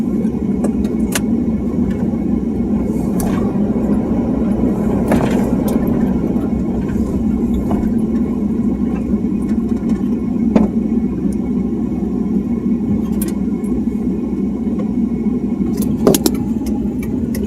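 Cars, including a Toyota Prius, on a road at night: a steady mid-pitched engine rumble drones on for a long stretch, with a few brief clicks and knocks scattered over it and no speech.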